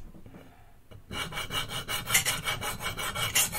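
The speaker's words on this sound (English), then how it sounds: "And this is not a standard way that I would sharpen this." Steel santoku knife blade being reworked at the bevel, with a quiet start giving way to steady, loud rasping strokes against an abrasive, repeated rhythmically and close up.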